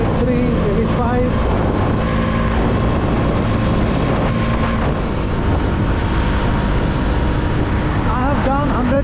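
A KTM Duke 200 motorcycle on the road, its engine droning steadily under heavy wind buffeting at riding speed, loud and continuous throughout.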